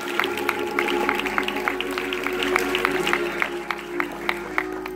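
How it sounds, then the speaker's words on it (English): A church congregation at a gospel worship service claps in a steady rhythmic beat, with sharp regular hand claps over sustained music. "Let's clap our hands and bless the Lord tonight."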